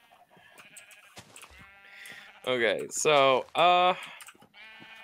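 Sheep bleating in the Minecraft video game: several loud, wavering bleats in quick succession, with someone talking briefly and soft keyboard typing in the background.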